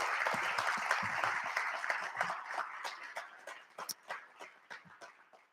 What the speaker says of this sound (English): would you give them a strong round of applause